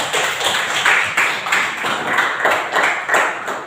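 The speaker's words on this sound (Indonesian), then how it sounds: "Tepuk tangan dulu untuk kita semua yang berhasil" A class applauds after a presentation, with fairly loud, close hand-clapping in a pulsing, slightly rhythmic wash that continues throughout.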